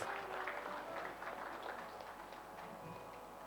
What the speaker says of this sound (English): Everybody, can we have a big round of applause